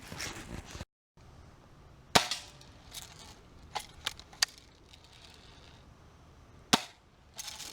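A BB gun fired outdoors on a farm, a handful of sharp, isolated cracks spaced seconds apart over quiet background.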